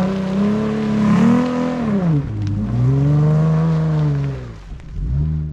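Jeep Wrangler on 37-inch tires climbing a muddy off-road slope, its engine revving loud and close in rising and falling surges, pitch climbing, dipping, then climbing again with no talk over it.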